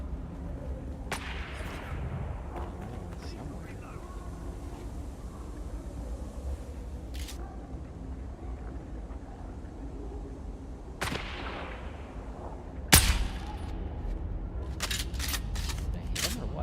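Gunfire in the Dune video game comes as sparse, sharp shots spread through low background rumble, with one louder crack near the middle and a quick cluster of shots toward the end.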